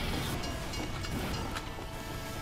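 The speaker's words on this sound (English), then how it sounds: "Train's coming." A train rumbles past in the video game Team Fortress 2, on the Halloween map Megalo, a steady broadband roar with clattering texture that holds loud and close for the whole stretch.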